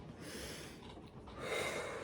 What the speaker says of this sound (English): I'm going to just take some grounding breaths